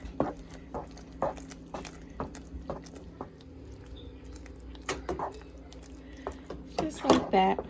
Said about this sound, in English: I'm just gonna pour that sauce right over there and give it a really good mix